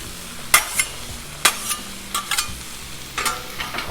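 Chorizo sizzles on a Blackstone griddle while a spatula scrapes and stirs it, giving sharp metallic scrapes every second or so over a steady soft frying hiss, close and clear.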